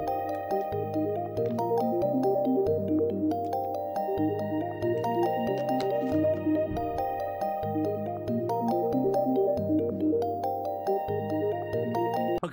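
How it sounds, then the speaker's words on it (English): A beat loop made in FL Studio plays on repeat, with a stepping low bass line and a bright melodic pattern over light percussive ticks, steady and continuous with no voices. "And so I got this loop that me and Synthetic made."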